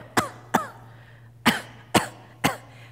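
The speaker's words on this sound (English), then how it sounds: "So the way I like to teach it is a little cough." Five short, sharp coughs from one person close by, spaced irregularly over a few seconds, with a faint steady hum underneath.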